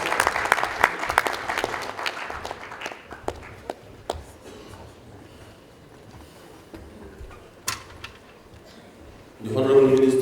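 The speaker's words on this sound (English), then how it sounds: "Sarkin, give him a good round of applause." An audience at a plenary public lecture of a family planning association applauds a speaker, a burst of dense clapping that fades into scattered claps and footsteps before a voice speaks.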